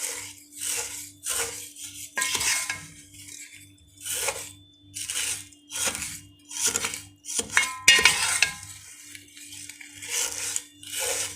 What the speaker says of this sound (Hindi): तो सेवइयाँ को हम 2 से 3 मिनट अच्छे तरीके से भून लेंगे दरमियानी आंच पे।